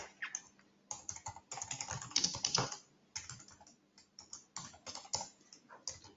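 A file name is typed on a computer keyboard: rapid, close keystroke clatter in uneven bursts with brief pauses, alone and without talk.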